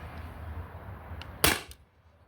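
A modified T4E HDP50 CO2 pistol fires a single sharp, loud crack over a quiet background hiss, followed by a short fading tail.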